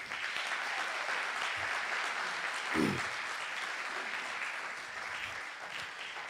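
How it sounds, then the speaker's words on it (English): An audience at a community summit applauds steadily, a continuous bed of clapping with a brief low murmur or thump partway through. "Please give them a round of applause."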